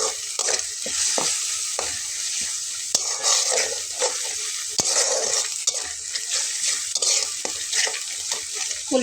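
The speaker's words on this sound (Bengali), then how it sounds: "মশলাটাকে আমি খুব ভালোভাবে কষিয়ে নেব" Spice paste for a water spinach dish sizzles in a hot pan as a spatula scrapes and stirs it in repeated strokes, loud and close throughout.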